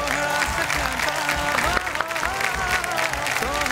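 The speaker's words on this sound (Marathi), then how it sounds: "जोरदार टाळ्या झाल्या पाहिजे, जोरदार टाळ्या." Audience applause at a prize-giving on stage, where a woman is crowned queen and given a gift hamper: dense, steady clapping that runs for the whole stretch, with musical tones and voices layered over it.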